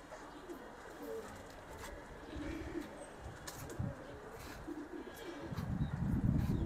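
Giribaz pigeons coo softly in a low, repeating murmur, with faint chirps and rustling around them and the cooing swelling louder near the end.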